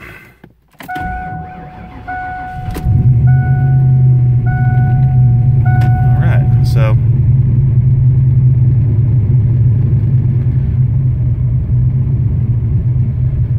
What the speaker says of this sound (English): So, the car's off, completely off, so we're going to go ahead and start it back up.